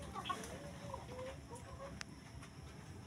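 Rhode Island chickens cluck softly in a quiet coop, with short, scattered calls and a few faint clicks over low background noise.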